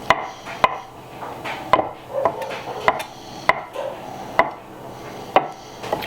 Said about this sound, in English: I'm gonna cut up probably 6 of these eggs